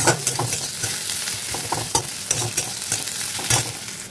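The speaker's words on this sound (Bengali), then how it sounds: "3-4 কোয়া মতন রসুন কুচি দিলাম। একটু হালকা ভাজা ভাজা করবো" Light sizzling of chopped garlic in a pan, with repeated stirring scrapes and clicks of a spatula at close range, no voices.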